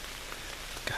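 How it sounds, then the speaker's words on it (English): Light rain falling on and off during a morning deer hunt in Virginia mountain woods with flat ridges and big oaks, a steady soft patter filling the background with a few slightly louder drops near the end. "Got rain today on and off."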